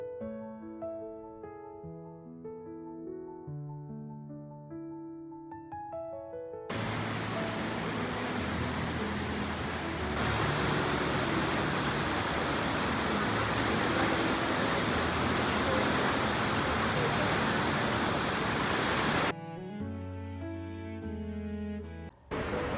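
Loud, steady broadband rush of a powerful river in Yoho National Park, Canadian Rockies, swelling in, holding for several seconds, then giving way to music, with music also before it.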